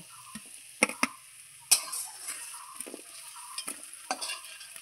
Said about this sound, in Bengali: আমার রসুন আর পেঁয়াজ দুটোই একসঙ্গে ভাজা হয়ে গেছে